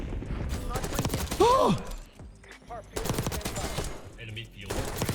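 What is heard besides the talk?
gunfire in video game Black Ops 6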